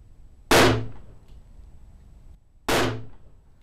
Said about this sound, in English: firing the Smith & Wesson Model